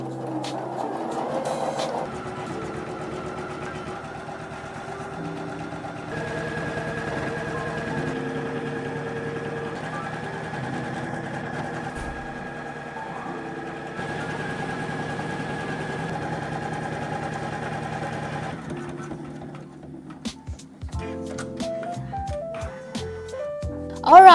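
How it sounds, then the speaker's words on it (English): A PooLin EOC06 embroidery machine stitches freestanding lace, giving a steady mechanical whir with tonal motor hum that runs continuously for most of the stretch, then breaks into shorter clicks and beeps near the end. "Let's start the embroidery."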